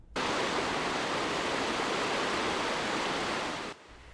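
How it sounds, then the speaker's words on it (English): Meltwater from melting snow rushes down Baird Creek in Green Bay as a steady, dense roar of cascading water that holds constant, then cuts off abruptly near the end. "You can hear that melting snow cascading through the Baird Creek in Green Bay"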